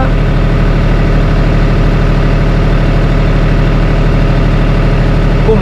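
A farm tractor pulling a trolley during potato planting runs close and loud, its engine holding a steady, throbbing low rumble without a break.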